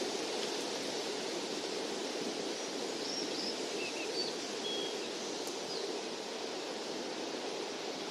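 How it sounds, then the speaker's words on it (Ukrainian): Steady broadband rushing of wind, constant and even throughout, with a few faint bird chirps high above it. "Правильно, це вітер."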